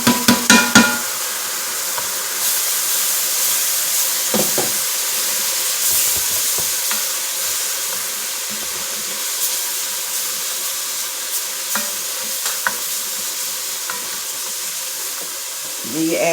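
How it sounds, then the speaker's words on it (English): Vegetables going into a hot pot for lamb stew: a few sharp clatters at the start, then a long steady steaming hiss and sizzle, close and continuous, with scattered faint clinks. "You add your vegetables."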